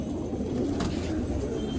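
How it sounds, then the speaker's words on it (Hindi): Kalpotiya pigeons coo softly among a flock, low, repeated throaty coos heard close over a constant background hum. "देखो ये कप में उड़ रहा है माशाल्लाह कबूतर"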